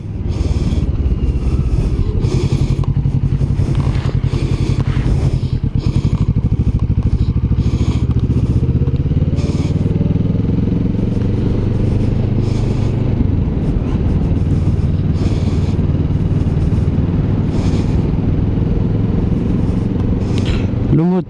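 A 2021 Kawasaki Vulcan S twin-cylinder motorcycle engine running with a loud, steady low rumble and a slightly clattery knock at low revs, continuous throughout and close to the listener.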